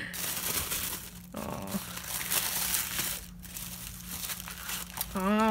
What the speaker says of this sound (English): they package these in this really pretty paper